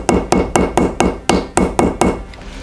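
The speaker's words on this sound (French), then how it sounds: "Je tape ma couture à l'aide du marteau ivoire." An ivory hammer taps along the stitching of leather straps or reins with about nine crisp, evenly spaced knocks, loud and close, the last few softer, with no talking.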